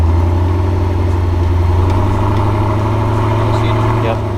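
A Camaro Z28 engine held against the foot brake under load, droning steadily and loudly at close range with a deep, constant hum that eases slightly at the end, while people talk over it.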